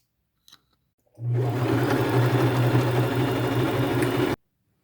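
A sewing machine stitching a strap onto a purse made from a thrifted sweater runs in one steady, close, humming burst of about three seconds after a tiny click, then stops abruptly into silence.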